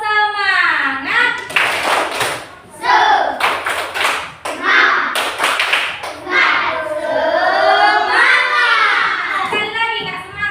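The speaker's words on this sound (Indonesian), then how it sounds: "Tepuk semangat." A classroom of children performs a rhythmic spirit clap (tepuk semangat), sharp patterned hand claps in quick bursts mixed with loud chanting voices and a teacher talking.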